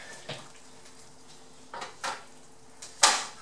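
Ovenware and a chicken dish are handled while being taken out of the oven, with a few scattered clinks and knocks of metal and dishes building to one sharp, louder clatter near the end, close by without talking.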